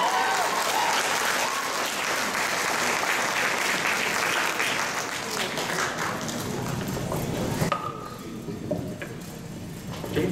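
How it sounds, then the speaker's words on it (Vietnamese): An audience at a Vietnamese language school's year-end closing ceremony in Tustin claps loudly and steadily. The dense applause fills the room and continues for about ten seconds. "Chúng ta một lần nữa cảm ơn cháu Vivi của chúng ta một tràng pháo tay."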